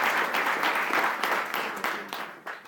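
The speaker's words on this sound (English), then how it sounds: "Give yourselves another round of applause." An audience at a political summit in New Jersey applauds in a steady burst of clapping that fills the room and tapers off near the end.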